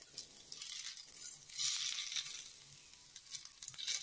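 Vegan sausages fry in a small amount of oil over medium flame, producing a faint, continuous crackling sizzle with occasional small pops, close up and without talk.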